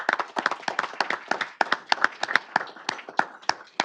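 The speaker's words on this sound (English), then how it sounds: "Let's give him a big round of applause." A small audience at a city council meeting claps for a sixth-grade guest, a sparse and fairly quiet patter of individual handclaps in an uneven rhythm.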